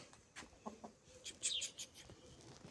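A rooster clucks in short, faint bursts at a little distance, with a few soft background noises and no clear talking.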